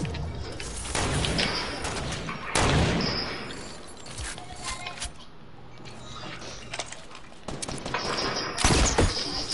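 Rapid gunfire trades back and forth in a video game sniper battle, with sharp loud shots and bursts clustered around the start and near the end and quieter stretches between them.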